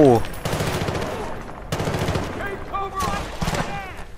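Rapid automatic gunfire in Battlefield: Bad Company 2 comes in sustained bursts, loud and close, with a voice talking over the shooting.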